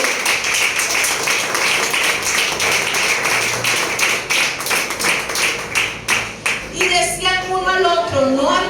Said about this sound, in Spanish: Denle un aplauso a nuestro Padre Celestial.